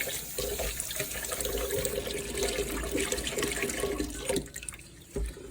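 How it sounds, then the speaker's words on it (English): Cold tap water runs slowly over jasmine rice in a kitchen sink, a steady close splash and trickle that cuts off briefly near the end and resumes. "now I'm going to run some cold water very slowly over it before I start mixing"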